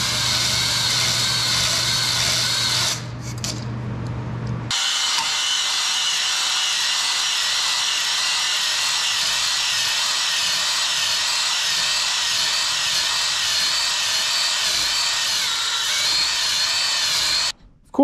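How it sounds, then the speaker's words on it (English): Drill-driven hone working inside a scored cylinder of a Farmall 460 tractor engine, a steady whirring grind with a short pause near the start before resuming and running on at an even, close level. "Oiled up the cylinder number one, we can start to hone this one"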